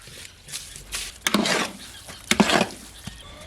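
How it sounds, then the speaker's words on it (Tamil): Cooked rice being stirred together with chopped ingredients and tempering for sambar rice, a series of close scraping and clinking spoon strokes against the vessel in short irregular bursts. "நல்லா கலந்து விட்டுக்கலாம்"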